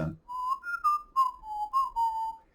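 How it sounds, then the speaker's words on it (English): A clear, melodic whistled tune of several sustained notes rising and falling, close and alone against a quiet background. "the whistling sequence"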